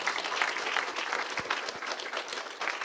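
Lively audience applause welcoming keynote speaker Dr. Holly Ordway at a talk on Tolkien's faith and works: a thick, steady burst of many hands clapping, close and full throughout.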